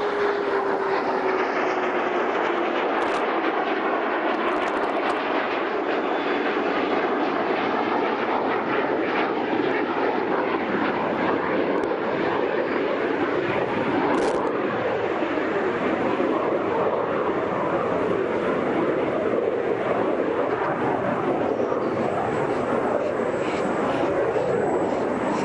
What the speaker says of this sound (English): Discovery rolling out on runway 15 at the Kennedy Space Center